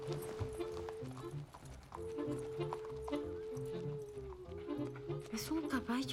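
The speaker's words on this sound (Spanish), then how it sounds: "Es un caballo." A horse clip-clopping, its hooves striking in a loose rhythm at moderate distance, heard under a movie soundtrack with a sustained musical tone and other background sound.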